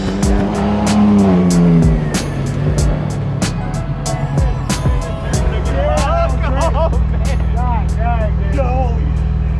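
Off-road race trucks tear around the Crandon course, with loud, continuous engine roar and tire noise close by throughout, and a voice talking over the racing.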